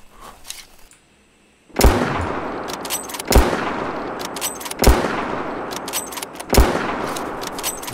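Gunfire in the video game Prehistoric Hunt, aimed at an ankylosaurus: after a brief hush, four loud shots ring out at roughly one-and-a-half-second intervals, each with a long echoing decay over low ambience.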